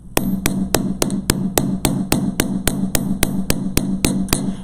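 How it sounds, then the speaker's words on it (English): Light, controlled hammer strokes on jewelry wire, a steady run of about sixteen evenly spaced sharp metallic taps at close range, each ringing briefly, with no talking. "I want you to have really light, controlled strokes when you hammer"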